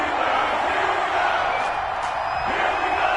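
Stadium crowd noise from an EA Sports NFL game on PS4, Cleveland Browns versus Pittsburgh Steelers, a steady broadband roar of cheering fans that holds at an even level throughout, with no voices standing out.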